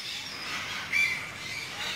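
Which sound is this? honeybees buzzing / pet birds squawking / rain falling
pet birds squawking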